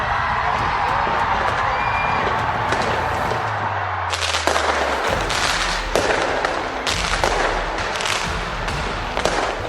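New Year's midnight fireworks over Auckland, New Zealand pop and crackle in repeated bangs over a constant roar of distant crowd noise, with a low hum briefly underneath.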